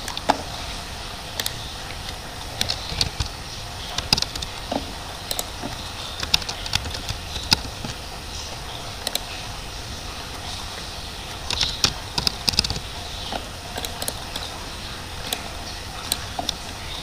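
Keystrokes on a computer keyboard while debt records are entered in accounting software: scattered, irregular clicks, faint and close, running over a steady background hiss, with no voices.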